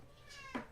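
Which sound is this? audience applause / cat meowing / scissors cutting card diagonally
cat meowing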